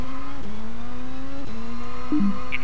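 An MR2-type car oversteering on a Rally Italy stage in Colin McRae Rally 2.0, a steady engine drone with shifting pitch and a short tyre squeal near the end.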